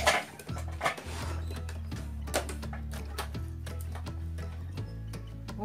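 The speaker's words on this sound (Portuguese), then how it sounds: "Vou fazer a costura." A sewing machine stitches around the edges of handmade cloth placemats, giving a steady motor hum with quick, even mechanical ticking. It runs continuously and close by, with no talking.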